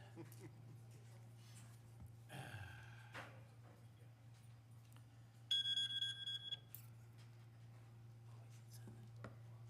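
A 7 o'clock alarm sounds during a town board meeting, a short high electronic beeping burst heard against a steady room hum, with faint voices and shuffling around it.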